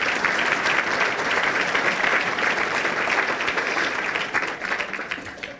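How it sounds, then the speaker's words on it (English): An audience at a 2018 mayor's State of the City address applauds steadily, a dense, even wash of clapping that holds for several seconds and slowly thins toward the end. "So how about a round of applause for them?"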